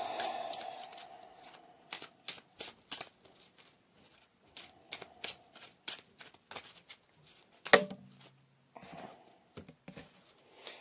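A deck of oracle cards shuffled by hand: a steady run of close, crisp riffling bursts with brief pauses and one sharper slap as cards drop, no talking.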